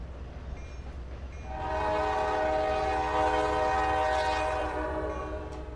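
Simulated K5LA train horn on a Norfolk Southern locomotive in Trainz Railroad Simulator 2019, a loud sustained multi-chime blast that swells in after a low rumble of idling engines and holds steadily to the end.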